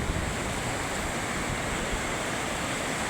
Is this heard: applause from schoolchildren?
no